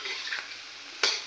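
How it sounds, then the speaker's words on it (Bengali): Bhayali frying in oil with potato, cumin and dried chilli tempering, a steady close hiss of sizzling with a sharper burst of spatter near the end, no voices. "আলু জিরা আর শুকনো লঙ্কা ফোড়ন দিয়ে ভায়ালিটা ভাজা হচ্ছে।"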